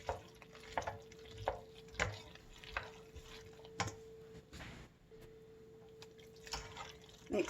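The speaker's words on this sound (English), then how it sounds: "Mix that up really well" Cooked noodles are stirred into a pan of taco mac, with soft, quiet, irregular wet stirring and scraping strokes close by, alone.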